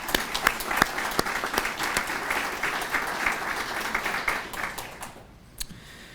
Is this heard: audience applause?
yes